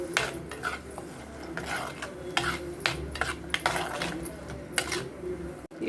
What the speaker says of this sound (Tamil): இப்போ அதை நல்லா மிக்ஸ் பண்ணிக்கலாம்.